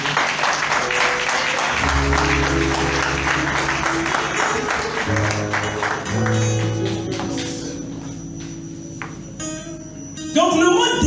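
A church congregation applauds the Lord with a full, sustained round of clapping that swells and then thins out, while keyboard and bass chords play underneath and a voice briefly speaks.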